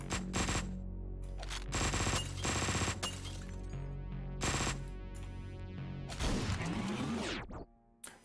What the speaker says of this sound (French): une arme automatique, style mitraillette